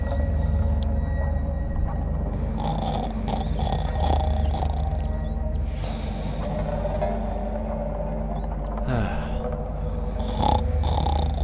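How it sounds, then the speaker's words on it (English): A sleeping character in the game Disponentia snores with low rumbling, droning breaths, steady and near, under faint eerie ambience. "I snore just like that."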